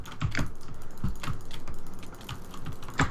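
Rapid, steady mouse clicks from fast clicking during Minecraft Factions PvP combat, a dense run of sharp close-up taps across the whole stretch.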